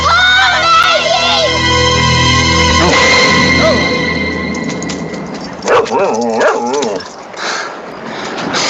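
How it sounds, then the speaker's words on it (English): Dogs bark, yip and whimper in a scene from the 1994 film The River Wild, loud close barks giving way to whining amid people talking. "Dogs. Yeah."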